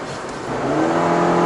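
A Suzuki XL7 or Mitsubishi Xpander Cross engine revs up, its hum rising in pitch and loudness over a second and a half, heard from nearby.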